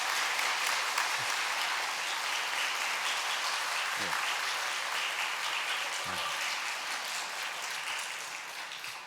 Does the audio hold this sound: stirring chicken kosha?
no